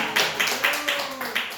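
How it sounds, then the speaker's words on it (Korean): Congregation at a Korean church's early-morning prayer service clapping in a steady rhythmic beat, about six evenly spaced claps, with a voice humming or speaking over them. "박수 한번 쳐라고."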